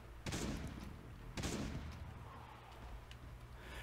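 In the Last Day on Earth survival game, two sharp gunshots sound about a second apart, each followed by a short decaying tail over quiet background noise.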